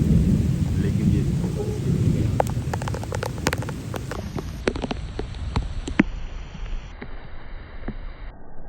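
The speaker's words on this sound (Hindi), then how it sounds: "बारिश काफ़ी तेज़ है" Heavy rain pours steadily while thunder rumbles low at the start, with sharp cracks and pops scattered through the downpour.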